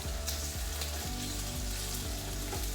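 Steady, close sizzling and crackling of bacon frying in a pan, with a low rhythmic hum underneath and occasional soft pops.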